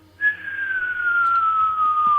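A single long descending whistle from an incoming naval cannon shell, sharp and piercing and steadily falling in pitch, heard alone over a low hum.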